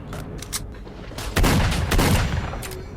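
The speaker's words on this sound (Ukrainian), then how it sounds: "Так, ну це доведеться брати кулемет." Gunfire from a machine gun in the shooter S.T.A.L.K.E.R.: Shadow of Chernobyl, with loud sustained bursts in the second half after lighter sporadic shots, close and booming, with no talk over it.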